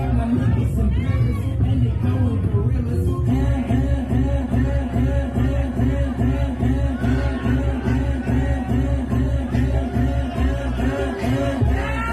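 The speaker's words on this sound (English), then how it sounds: "like the crowd reaction was absolutely mad" Crowd at a DJ event reacting to a mix transition: loud pulsing dance music with a steady thumping beat dominates, while crowd noise and scattered shouts rise over it, strongest in the first few seconds.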